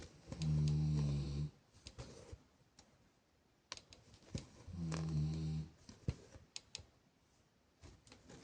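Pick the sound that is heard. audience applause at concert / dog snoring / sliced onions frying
dog snoring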